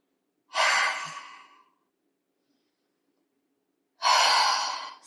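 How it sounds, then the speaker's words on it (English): Two slow, audible breaths during a neck exercise, each a long airy exhale that fades gradually, separated by a few seconds of silence, close and clear. "as you take a breath in and breath out, you draw the elbows directly backwards"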